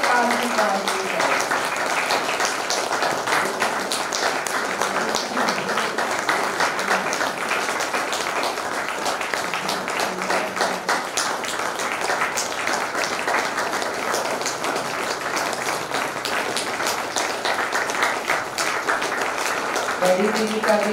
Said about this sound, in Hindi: जोरदार तालियां, तालियों में कमी नहीं होना चाहिए